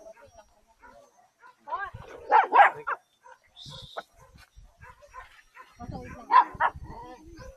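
Several dogs bark and yip in scattered bursts at a riverside fishing spot, loudest around the middle and near the end, with people talking between the barks.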